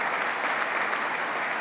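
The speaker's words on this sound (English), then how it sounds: "let's give them a round of applause for keeping our people safe" An audience at a New York State executive budget announcement in Western New York breaks into applause, a brief, even wash of many clapping hands that fills the room.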